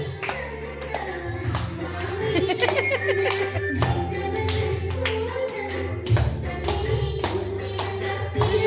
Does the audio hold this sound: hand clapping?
yes